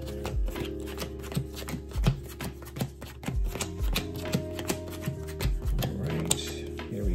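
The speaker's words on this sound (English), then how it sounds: "We're going to go ahead and do just a quick power shuffle here" A deck of Yu-Gi-Oh trading cards being power shuffled close up, with a rapid, uneven run of crisp card snaps and riffles repeating throughout without pause.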